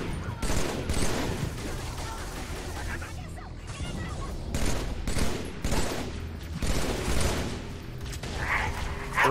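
Rapid turret gunfire in the video game Halo 3 rattles in dense bursts with mechanical clanks between volleys, loud and close, while people talk over the action.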